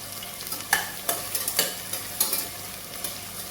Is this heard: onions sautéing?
yes